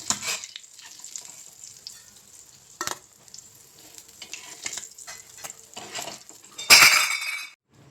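Chalai sardines frying in hot oil, a soft crackling sizzle with scattered clinks of a utensil against the pan and a brief louder scraping burst near the end.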